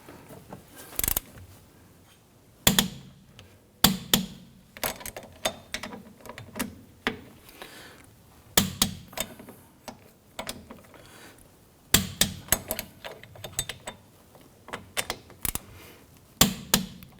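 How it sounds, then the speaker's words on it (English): A torque wrench tightens the wheel hub bolts on a 2017-2020 Hyundai Elantra, giving sharp metallic clicks and ratcheting bursts spaced irregularly with quiet gaps between, close up and alone. "Torque down the wheel hub bolts to 43 foot-pounds."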